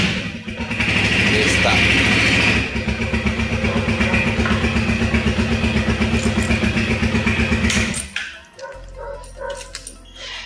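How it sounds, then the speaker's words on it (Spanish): Motorcycle engine rumbling steadily and loud for several seconds alongside barking dogs, then cutting off abruptly and leaving quieter background noise; someone speaks briefly. "Entonces desactivamos y ahí podemos volver a prender nuestra moto."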